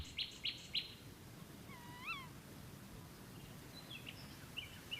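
Faint bird calls in lowland Scottish woods at nightfall: three quick high notes at the start, a rising wavering call in the middle, then scattered distant chirps over a low rustling background hum.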